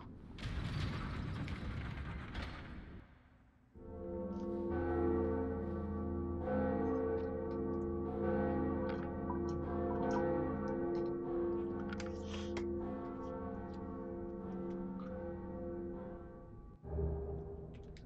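Large church-style bell tolling in Dark Souls: heavy ringing peals with dense metallic overtones sustain for over ten seconds after a burst of mechanical clanking and creaking, with no speech.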